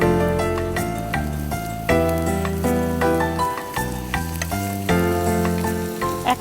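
Sliced onions hitting hot oil in a pan for a Bengali mashed dish with eggplant, fish and dried fish, giving a steady close sizzle that flares in bursts, with tonal music playing over it.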